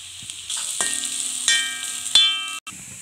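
Grated coconut sizzles steadily in a hot pan for a thoran, a bright continuous fry with a few sharp ticks and stirring scrapes, close and fairly loud, briefly cutting out near the end.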